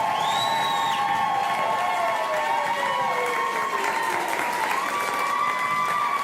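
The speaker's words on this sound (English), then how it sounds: "So please give them a round of applause" A live comedy show audience applauds with a broad wash of clapping, mixed with whoops and whistle-like cheers that rise and fall.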